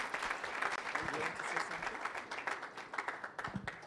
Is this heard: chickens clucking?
no